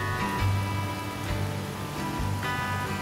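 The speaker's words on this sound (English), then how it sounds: "There's a creek up there." Creek water running across a minor rural road in Missouri makes a steady, dense rushing wash, close and continuous with no speech.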